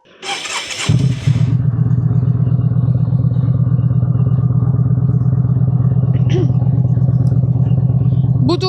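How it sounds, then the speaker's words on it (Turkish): A Yamaha XVS 950 A Midnight Star cruiser motorcycle engine starts up and then settles into a steady, close idle with a low, even rumble. "duyduğunuz ses sadece motorun rölant sesi"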